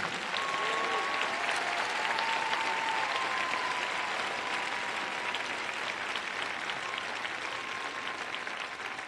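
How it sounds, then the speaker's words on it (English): A crowd at a high school band event gives a long round of applause for the band class of 2021, steady dense clapping with a few faint voices and whistles. "So I want a round of applause"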